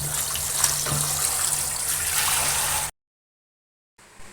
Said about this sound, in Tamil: இப்போ நம்ம அலசி எடுத்தாச்சு.